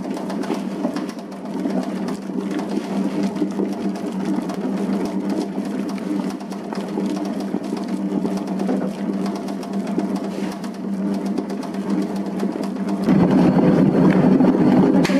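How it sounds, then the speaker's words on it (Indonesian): Dough mixer machine kneading pandan bread dough, a steady mechanical whir and rumble that runs throughout and gets louder and fuller near the end. "Lalu dinyalakan lagi mesinnya, kita adon sampai betul-betul kalis."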